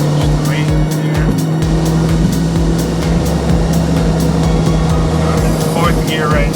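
A 2008 Honda Fit with a manual gearbox driven on the road, giving a steady, loud engine drone with a low hum and continuous road noise from inside the cabin.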